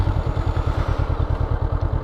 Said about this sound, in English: I'm going to press and hold the ignition switch until the bike is running.